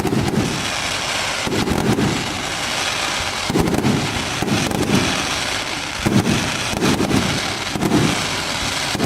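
Fan cake fireworks at a public show burst in rapid clustered volleys, loud crackling booms arriving in repeated groups with brief lulls between, no voices.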